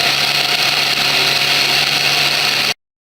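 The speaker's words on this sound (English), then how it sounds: "So it's nicely blended now." A kitchen blender blends houmous with a steady, loud, close whirring hum that runs for about three seconds and then cuts off abruptly into silence.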